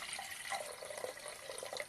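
Ambrosia poured into a glass for a daily toast, a faint continuous trickle of liquid with small splashing drips, heard close and alone.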